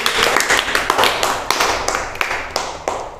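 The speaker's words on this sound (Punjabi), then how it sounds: "ਸ਼ਾਬਾਸ਼ ਤਾੜੀਆਂ ਮਾਰੋ ਸਾਰੇ ਬੱਚੇ" A group of children clapping together in a classroom during a Punjabi alphabet lesson, a lively, uneven patter of many hands that rises and pulses in small bursts over a steady background hum.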